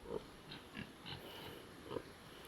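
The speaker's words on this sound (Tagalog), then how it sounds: "Ang baraboy. Baligya. Isay ganahan, litsonon." A pig meant for sale as lechon gives several short grunts and oinks at irregular intervals, close by and fairly quiet against faint background hiss.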